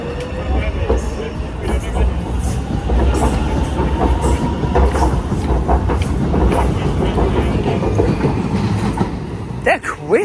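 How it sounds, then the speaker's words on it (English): A new B23 stock Docklands Light Railway train passes close by with loud, steady rumbling and rhythmic wheel clatter over about ten seconds, and people talk over it. "And that has been the brand new DLR trains."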